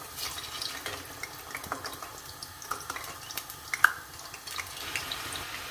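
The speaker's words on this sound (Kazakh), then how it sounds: "Бауырсақты қуырғандай, тура солай картошканы да қуырамыз, қып-қызыл қылып." Potatoes frying in hot oil, cooked until deep golden like baursak dough, give a steady soft crackle with scattered pops and drips, close and fairly quiet with no voices.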